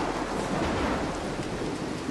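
A video game thunderstorm with lightning: dense, steady rain noise with low rumbling thunder rolling underneath, continuous and fairly loud with no voices.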